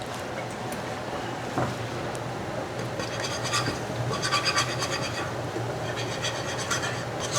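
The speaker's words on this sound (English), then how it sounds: "And we'll just whisk that all up." A mixture of fresh oregano and sumac is whisked in a bowl, giving soft, scratchy scraping that becomes a quick rhythmic series of strokes partway through.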